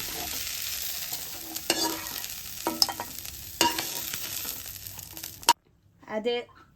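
Frying in oil in a kadai gives a close, continuous sizzle with occasional stirring scrapes, which cuts off abruptly and is followed by a short spoken phrase.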